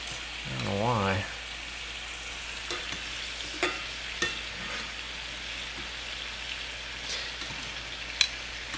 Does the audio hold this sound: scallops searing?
yes